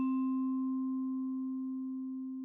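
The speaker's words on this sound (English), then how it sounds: "You can tell by when you play the vibraphone dry," Single vibraphone note played dry, a pure, steady bell-like tone that rings clearly and fades slowly, alone and without flutter.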